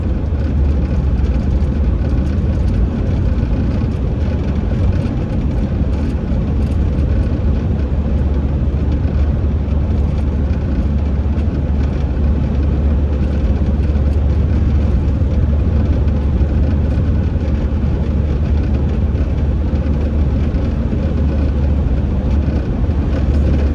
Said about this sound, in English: here goes the Mack truck